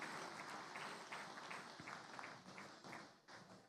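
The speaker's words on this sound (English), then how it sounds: "Please, a round of applause for a great work that they've just done." Applause for laureates at a state dinner: a crowd claps steadily with some individual claps standing out, heard faint and somewhat distant.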